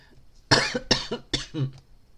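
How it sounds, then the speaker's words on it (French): Three or four sharp, close coughs from one person come in quick succession, each a short harsh burst with brief gaps, fairly quiet overall with no talk over them. "Excusez-moi, je tousse là."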